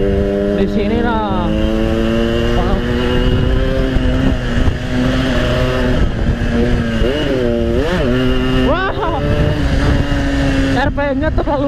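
Yamaha RX King motorcycle engine idles and runs at low RPM with a loud, close, rough two-stroke drone, rising in several short revs, while someone talks over it.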